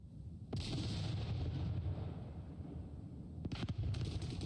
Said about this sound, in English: that is the gunfire from Peas.